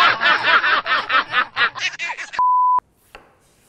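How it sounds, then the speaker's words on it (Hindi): A knife finely chops tomatoes for a cooker aloo tamatar sabji, a quick, even run of close, crisp taps on a board for about two seconds, followed by a steady electronic beep. "एक तो बारीक चॉप करना है और एक मोटा डाइस करना है।"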